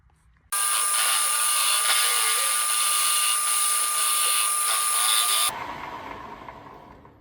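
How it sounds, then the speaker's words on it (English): A portable band saw cuts off excess metal from a lathe workpiece in a shop, a loud steady whine with a high ringing tone that runs about five seconds alone, then stops abruptly and fades out. "I'm gonna take a porta band, cut this off"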